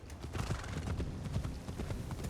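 A horse galloping in Assassin's Creed Shadows, a rapid, continuous run of hoofbeats with a brief whinny, loud and close throughout with no talking.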